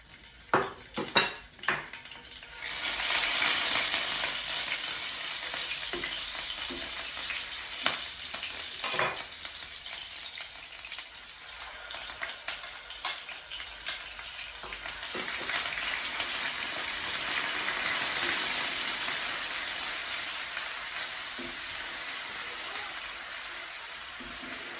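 Garlic sizzles and fries steadily in a hot pan while Shorshe Ilish is being cooked, with a few sharp clinks of a utensil against the pan at the start and stirring scrapes throughout. No voice is heard.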